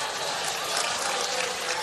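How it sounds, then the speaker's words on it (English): Polite applause from a modest audience at a powerchair sports club championship venue, a soft, steady patter of clapping lasting under two seconds. "A polite round of applause there from the venue."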